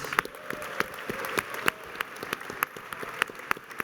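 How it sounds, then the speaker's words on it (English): At a student awards event, a crowd gives a round of applause for the student leaders. The soft, wash-like clapping is heard from some distance, with a few crisp, distinct claps standing out above it. "so a round of applause for our SAC leaders."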